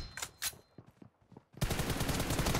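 Video game gunfire: a few scattered shots among quieter game sounds, then a sudden loud stretch of rapid automatic fire that continues to the end.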